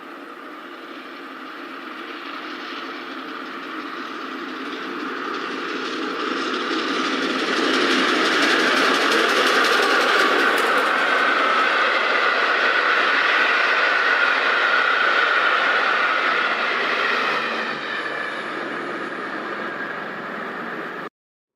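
A steam locomotive rumbles past, swelling louder as it nears and holding a steady roar with rhythmic clatter and hiss before fading and cutting off.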